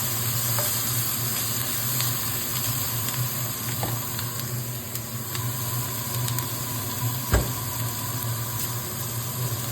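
Carrots and onions fry for upma under steady stirring, a continuous close sizzle with scraping strokes and one sharp knock of the spoon near the end, and no talking.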